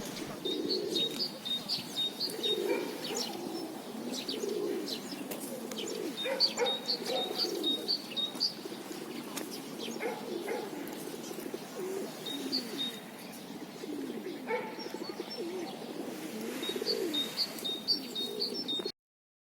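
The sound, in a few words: pigeons cooing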